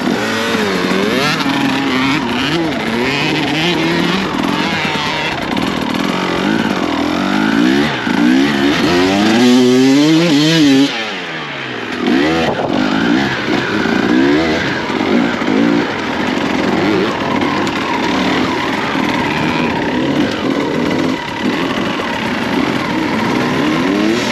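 An enduro motorcycle engine revs steadily nearby, pitch rising and falling through repeated throttle blips, with a brief drop in the middle before picking up again.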